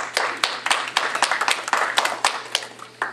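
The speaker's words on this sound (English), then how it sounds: "General applause is welcome." Scattered hand clapping from a small audience at a local Meet the Candidates election meeting, distinct individual claps in an irregular rhythm, fairly close, with a low steady hum underneath.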